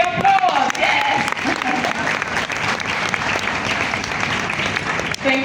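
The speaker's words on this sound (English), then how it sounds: "I'm expecting the applause, yes!" Audience applause in a hall at the Nestle Nutrition Summit, dense clapping that holds steady throughout with some voices and a brief voice near the end.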